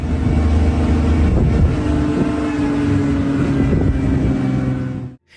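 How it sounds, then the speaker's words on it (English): A car engine roars loudly and steadily during a chase by a rhino through a forest, with a sustained droning tone and wind buffeting that cuts off abruptly at the end. "The forest echoed with the sounds of the car's engine and the thumping of the rhino's giant feet."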